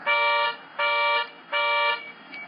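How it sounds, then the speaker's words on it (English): The panic alarm of a 2017 Lexus LX570 luxury SUV sounds as loud electronic horn-like blasts, three long evenly spaced pulses followed by a weaker fourth, with nothing else heard. "I can press and hold the panic alarm button there, and that's the one on the bottom, and that will set off the panic alarm"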